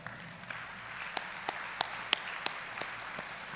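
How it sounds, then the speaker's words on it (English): Applause at a community awards ceremony, the St. Thomas & District Impact Awards, comes through as a soft, moderate patter with a few sharper individual claps standing out, heard from a modest distance. "Big round of applause, please."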